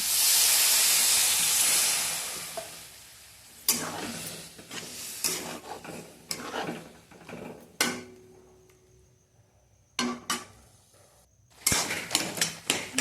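Water poured into a hot pan of long bean curry sets off a loud, hissing sizzle that slowly fades, followed by scattered scraping stirs and clatters of a spoon against the pan.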